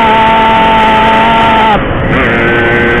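A 2-stroke 135cc motorcycle engine revs with a loud, close, buzzing whine that holds high, then drops briefly and climbs again.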